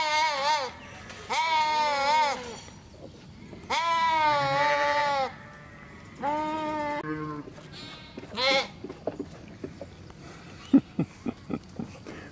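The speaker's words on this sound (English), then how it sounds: "These are her sheep." Sheep and lambs on a farm bleating in a run of loud, wavering calls of varied pitch, several overlapping, followed by a few short, sharp calls near the end.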